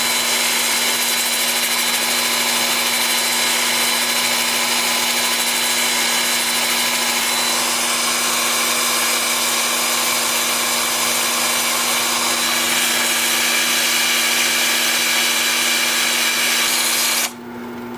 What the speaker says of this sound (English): Then with the lathe spinning in reverse at about 380 RPM.